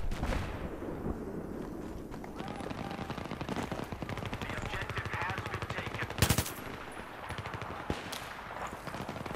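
Rapid bursts of ACW-R carbine fire in a Battlefield 3 match, with sustained automatic shooting, distant explosions and chaotic battle noise, and a louder blast about two-thirds through.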